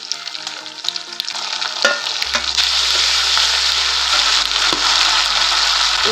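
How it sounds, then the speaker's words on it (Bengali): Spice paste and garam masala fry in oil with bay leaf, whole cumin and chopped onion, giving a loud crackling sizzle that swells and settles into a steady hiss over soft background music. "আমি একটু ভেজে নেব।"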